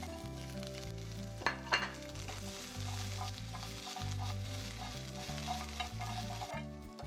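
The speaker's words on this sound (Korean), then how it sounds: "전복이 살짝 오그라들면 양파를 넣고 양파가 투명해질 때까지 볶아주세요" Abalone and onion stir-fried in butter, with a steady sizzle and repeated stirring scrapes in a pan, continuous and close, without any talk.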